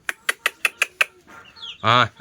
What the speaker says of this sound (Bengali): এটাও মোরগ বাচ্চা কালো ওইটাও মোরগ বাচ্চা